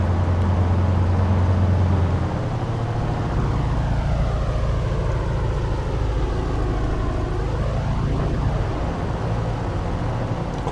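An aircraft engine throttles up during an Airpower22 airshow flight while flying formation with a DC6, giving a loud, constant roar throughout with sweeping tonal shifts from the passing airflow and propellers.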